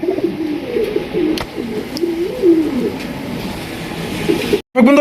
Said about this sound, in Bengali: এখানে রয়েছে আরও এক জোড়া কালারিং রাজগুলা কবুতর